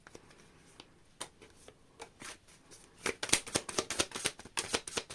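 Tarot cards being shuffled by hand, a run of crisp rapid riffling snaps that grows louder and denser toward the end, close and without talk.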